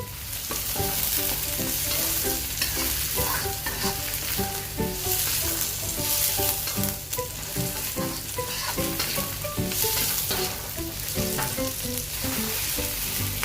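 Bay leaves and galangal stirred into a hot clay pot over a kerosene stove while cooking chicken asem-asem, with a steady close sizzle and frying crackle running throughout and no talk.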